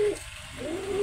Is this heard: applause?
no